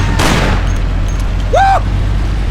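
A short burst of gunfire rings out in the video game Mafia: The City of Lost Heaven, a quick crackling volley followed by a whining, swooping tone over a steady low engine rumble.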